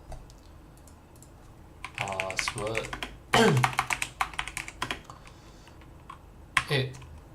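A password is typed on a computer keyboard as irregular bursts of clicking keystrokes, close and clear, with a few quick taps and pauses between groups. A voice speaks around the typing.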